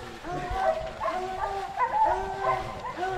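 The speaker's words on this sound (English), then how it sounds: "Got the coon dog right here, two in the pen." Walker coon hounds barking and yipping in a pen at a kennel, several sharp barks in quick irregular bursts nearby, with whines between them and people talking over the dogs.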